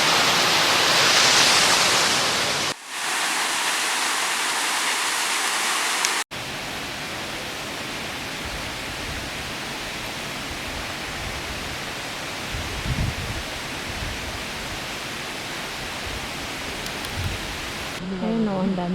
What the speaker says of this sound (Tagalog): Tignan nyo itong tubig, oh, parang ang lakas, parang ulan.